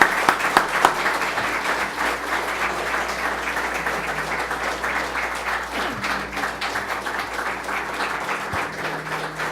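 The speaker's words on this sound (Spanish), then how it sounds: "vamos a recibirlo con un fuerte aplauso" Sustained audience applause welcomes Dr. William Soto Santiago to a church gathering, dense clapping from a large crowd that holds steady for about ten seconds with a low hum beneath it.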